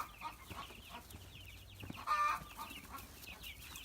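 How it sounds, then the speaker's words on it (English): Chickens in a hen house on a community farm give short scattered clucks and calls over a busy farmyard background, with one brief, louder call standing out midway. "We have chickens."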